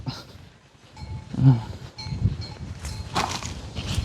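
Water buffalo make a low lowing call nearby, with scattered rustling and thumps around it and no talking.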